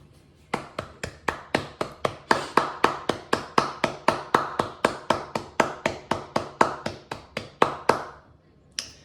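Students and staff clap in rhythm at a whole-school assembly: about thirty evenly spaced, sharp claps, fairly close and loud, building slightly in the middle before stopping abruptly, with no talking.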